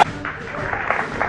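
Brief burst of crowd applause and scattered cheering at a political speech about the Federal Reserve, heard close with a voice briefly mixed in.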